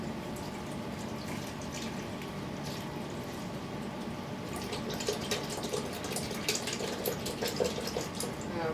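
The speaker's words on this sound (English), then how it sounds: "this coconut milk, but actually I'm just going to pour some in" Coconut milk pours in a steady, continuous stream into a Vitamix blender jug, a close liquid gurgle that grows a little splashier toward the end.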